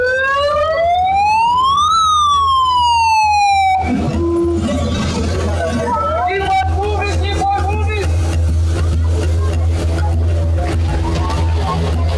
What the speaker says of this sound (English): siren to start.